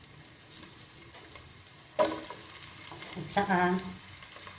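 Garlic dropped into hot oil in a pan, a sudden sizzle that bursts up and keeps crackling, with a brief stir and a short spoken phrase over it.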